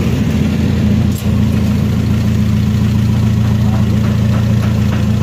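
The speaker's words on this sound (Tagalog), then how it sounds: "Ayan, ayan po yung makina mga boss." A Tamiya owner-type jeep engine idles steadily and loudly up close, a constant low throbbing rumble for several seconds with a brief dip near the start, under faint background talk.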